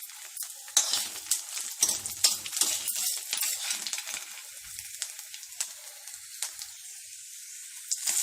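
Garlic and asafoetida crackle and sizzle in hot oil for an ajwain leaf dal, with busy spitting pops and a few ladle stirs, close and steady with no talk.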